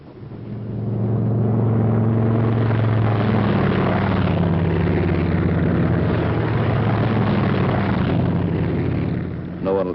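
WWII P-47 Thunderbolt fighter-bombers of a squadron taking off from an Italian airfield, a steady loud propeller-engine drone and rumble holding for several seconds before easing slightly.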